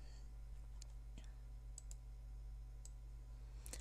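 A computer mouse gives a handful of sparse, light clicks, spaced irregularly and fairly faint over a steady low electrical hum, ending with a quick double click.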